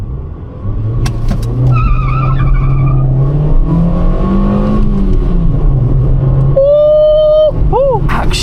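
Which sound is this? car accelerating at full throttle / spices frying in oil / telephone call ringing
car accelerating at full throttle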